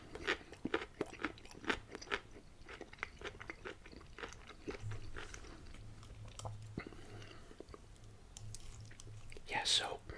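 Close, crisp crunching and wet chewing of chunky English cucumber pieces from a Uyghur meal. Bites repeat in quick irregular clicks and crunches, with soft whispered talking in between.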